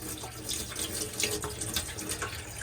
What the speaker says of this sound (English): Making sure the pump's on, you get a pressurised flow of water.